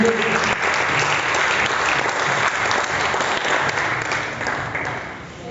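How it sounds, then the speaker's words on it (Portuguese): Loud, dense applause from a congregation at a church youth service fills the space without a break, easing slightly toward the end as the clapping thins. "Vamos dar um aplauso ao Senhor."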